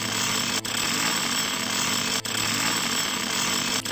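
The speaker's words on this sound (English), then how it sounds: "Very noisy, that drill," A loud mechanical drill in the retro point-and-click game Simon the Sorcerer hammers continuously with a harsh rattling roar, broken only by a few tiny dropouts.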